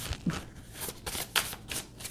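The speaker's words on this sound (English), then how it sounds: "Yeah, it shuffles really nicely." A deck of oracle cards is shuffled quietly and close by, with a few soft riffling flutters and light taps, no voices.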